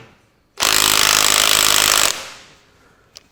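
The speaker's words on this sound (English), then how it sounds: "I either need the bigger nut gun." Nut gun removing front hub bolts on a John Deere 4WD tractor, one loud, close, continuous rattling impact burst lasting about a second and a half, then winding down into a fading hum.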